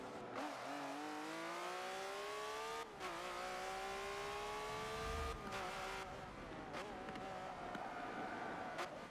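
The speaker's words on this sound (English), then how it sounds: "The Lambo's going around the corners quite nicely." A Lamborghini lapping a short circuit in the Forza Motorsport 7 racing game, its engine note rising and dropping through gear changes and corners, loud and continuous, with brief tire squeal.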